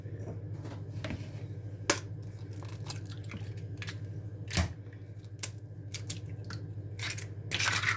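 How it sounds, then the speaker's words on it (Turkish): Eggs cracked for an orange cake make a few sharp, isolated taps and cracks against a bowl, spaced several seconds apart over a low, steady kitchen hum, close and fairly soft with no talking. "yumurtaları bir kıralım"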